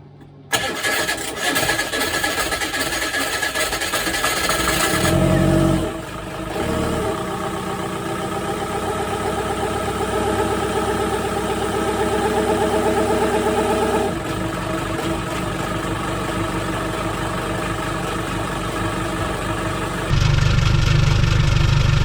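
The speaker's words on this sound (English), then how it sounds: "Will the engine run?" An engine flooded with seawater, after an oil change, cranks, catches and starts, then keeps running with a steady loud mechanical drone, shifting pitch slightly as it settles into idle.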